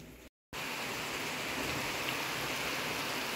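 Rain pours down steadily, a dense, even hiss that fills the scene after a brief cut near the start, with no talking over it.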